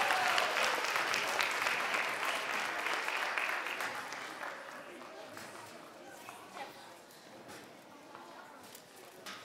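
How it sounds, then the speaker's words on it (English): Audience applause at a fifth-grade school spelling bee, a steady round of clapping that starts full and gradually thins out, with some talk underneath. "a round of applause."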